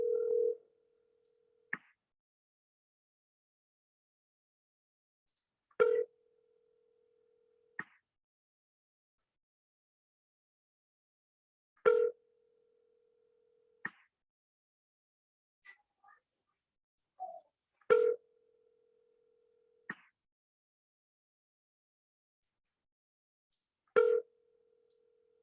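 Outgoing telephone ringback tone, repeating as evenly spaced single tones about six seconds apart. Faint clicks fall between the tones against otherwise near silence.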